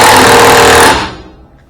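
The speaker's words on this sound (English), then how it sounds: "run her up with an air wrench" An air wrench runs up a nut on a cylinder rod of a CAT D5C dozer, giving a loud, close burst of hammering rattle for about a second before cutting off and fading.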